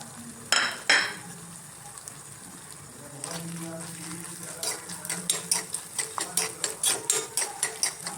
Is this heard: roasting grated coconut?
yes